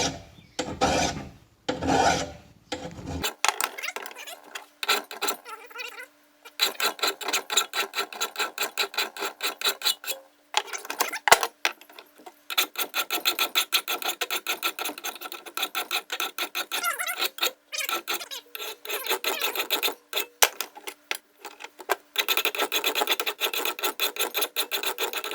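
Hand file rasping along a Scag Turf Tiger mower blade being sharpened, steady rhythmic back-and-forth strokes, close and dry, in repeated runs with short gaps.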